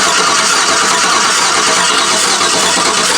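Harsh, steady engine noise from a GM truck being cranked during misfire diagnosis, loud and close throughout with no pauses.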